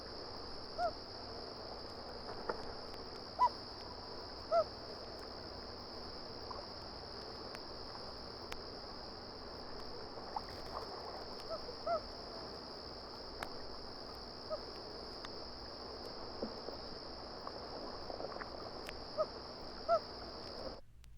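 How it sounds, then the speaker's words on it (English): A single loon gives a series of soft hoots that shift in pitch, heard faintly and spaced apart over a steady high background tone and low hiss. "Here is a series of hoots from a single loon."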